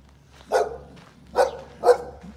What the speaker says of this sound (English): There's my roof dog.